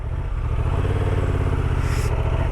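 Off-road motorcycle crawling at low speed, its engine a steady loud throb with a pulsing low rumble and no clear revving, heard up close and alone with no talk.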